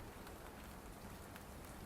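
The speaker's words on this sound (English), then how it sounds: "Yeah, it's raining." Steady rain falls on a Hong Kong street in Wan Chai, a dense, even hiss of drops spattering on surfaces and an umbrella, constant and close with no voices.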